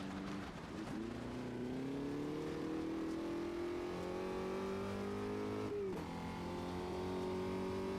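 A race car engine in the sim game Automobilista 2 revs high and holds a climbing drone, then drops sharply as the driver shifts near six seconds before pulling again, loud and alone.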